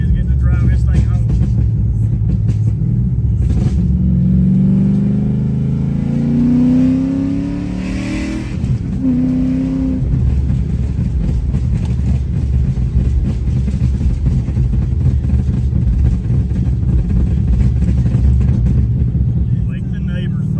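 A Chevrolet Silverado truck engine rumbles loudly and close, climbing in pitch as it revs up around the middle, then settling back into a heavy, steady drone.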